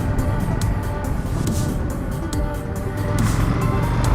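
Indian FTR 1200 motorcycle, a 250 kg flat-track inspired bike, on the move: a steady engine drone with wind rush, holding fairly constant and swelling slightly near the end.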